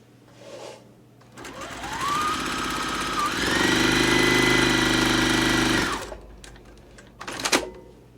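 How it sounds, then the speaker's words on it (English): A sewing machine stitches a quarter inch along a diagonal line on fabric for an Ohio Star quilt block, running in a continuous whir that speeds up midway, then stops, followed by faint handling clicks. "I'm going to stitch a 1/4 inch on both sides of that"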